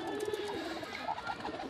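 A pair of Rajshahi high-flying pigeons coo softly and faintly nearby, with a few low, throaty coos over quiet background noise.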